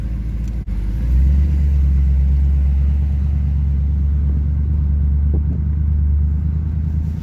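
LS1 V8-swapped Jaguar XJ8 X308 rumbling while driving near an airport: a brief clunk, then a loud, deep, steady engine drone with a slight rise, heard from inside the car without any talk.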